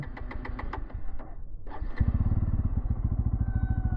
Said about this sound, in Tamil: ஒரு டூ செல்ஃப் அடிக்கிறீங்க மூணாவது செல்ஃபில் வந்து அது ஸ்டார்ட் ஆயிரும்